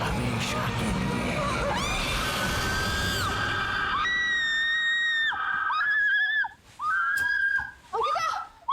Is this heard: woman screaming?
yes